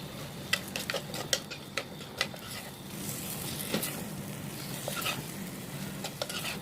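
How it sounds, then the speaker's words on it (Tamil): Masala powders sizzle in a clay pot as a spoon stirs them, steady frying hiss under sharp regular ticks of the spoon against the pot, fairly faint and close. "இதோட பச்சை வாசனை போகிற வரைக்கும் நல்லாவே வதக்கி விட்டுருவோம்"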